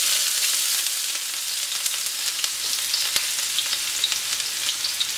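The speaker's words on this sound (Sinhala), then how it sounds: "මම මේකට ඉස්සෙල්ලම දැන් තෙල් එක රත් වෙලා තියෙනවා ඒක නම්. මේකට ඉස්සෙල්ලම අපි කපාගත්ත ලුණු ටික දාමු." Chopped onions hit hot oil in a pan, making a loud, continuous hissing sizzle peppered with small crackling pops, with no talking.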